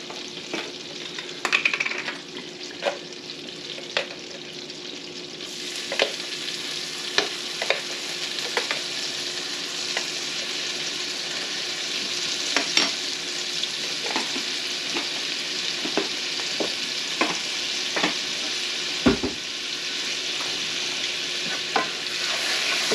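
Garlic frying in a pan for a garlic parmesan tortellini sauce, a steady close sizzle running throughout with frequent light clicks and scrapes of a stirring utensil, no voices.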